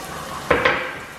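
Chopped onions tipped into a hot pan for Filipino green beans with pork, giving two sharp bursts of sizzling hiss close by that settle into a steady frying crackle; no talking.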